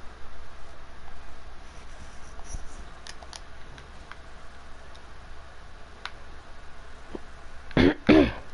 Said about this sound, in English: just gotta clear my throat.